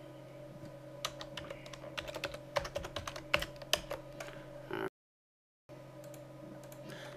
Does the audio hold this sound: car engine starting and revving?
no